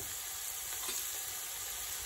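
Chopped onions and carrots sizzling in a soup pot, a faint, steady frying hiss with no talk.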